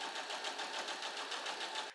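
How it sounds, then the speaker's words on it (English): A sewing machine stitches a raw-edged seam with a bag handle sandwiched in at a half-inch allowance, a steady, close, rapid mechanical chatter running continuously before it stops abruptly. "We are going to stitch along those raw edges, again with the handle sandwiched in there with a 1/2 inch seam allowance."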